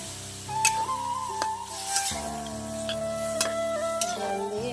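Water poured into a pan of frying potatoes and vegetable stems sets off a soft sizzle, with a few light clinks of stirring and steady tonal background music running underneath.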